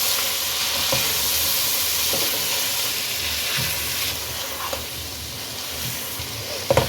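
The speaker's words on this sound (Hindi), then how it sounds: "अब मसाले को भी इसके अंदर भून लें।" Ground spices such as black pepper, coriander, turmeric and cumin fry in a pan for chicken mumtaz, making a steady close sizzle with occasional stirring scrapes and a few clinks at the end.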